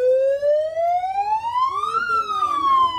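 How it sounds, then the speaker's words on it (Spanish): An electronic siren alarm wails upward in a long sweep through a megaphone, then drops, sounding loud and slightly distorted. "Vamos a poner la alarma, espérame."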